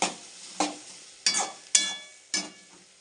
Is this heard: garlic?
yes